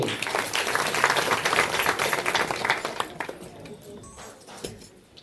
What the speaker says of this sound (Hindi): इनके लिए भी जोरदार तालियां बजा दो।